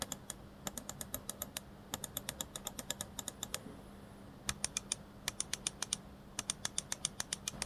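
Crisp, close clicks from a Deepcool MC310 ultralight gaming mouse in quick bursts, dozens of sharp taps with short pauses between runs, no voices.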